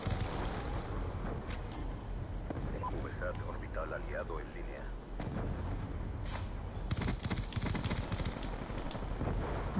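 Dense, rapid gunfire from Call of Duty Black Ops 2 multiplayer on the Frost map in Hardpoint mode, with bursts of shots crackling continuously over game noise and voices talking throughout.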